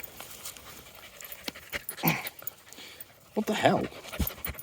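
A dog pants in quick, rough breaths close by during an outdoor walk on a woodland path, with footsteps and a man's brief exclamation over it.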